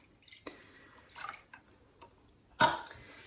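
Freshly squeezed lemon and orange juice is poured into a pot for elderflower cordial, heard as a few soft separate splashes and drips, ending in one louder splash.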